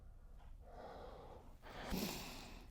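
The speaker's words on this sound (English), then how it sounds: "Breathing nice and soft." Soft, close breathing during a full-body mobility exercise for Brazilian jiu-jitsu, a quiet exhale followed by a slightly louder breath out, with no talking.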